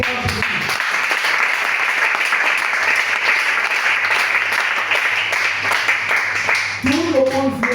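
A church congregation at a French-language service applauds and cheers to acclaim the Lord, a steady roar of clapping that fills the room, dropping briefly near the end as voices come back in.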